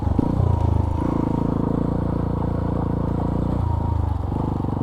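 Motorcycles ride by, a steady loud engine drone with clattering mechanical texture and shifting low rumble throughout, close and continuous with no speech.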